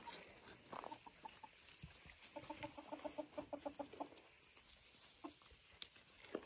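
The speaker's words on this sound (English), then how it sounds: "Hey, chickens." Short clucks and chicken calls come in clustered bursts, some rapid and repeating, over quiet outdoor background with occasional rustles.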